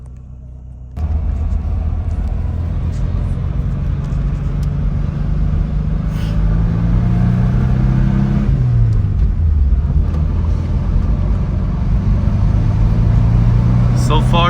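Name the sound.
Subaru Impreza GC8 STI driving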